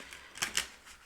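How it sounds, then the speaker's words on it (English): Tarot card deck being shuffled, two quick soft riffling bursts close by in an otherwise quiet room. "I will shuffle it this way."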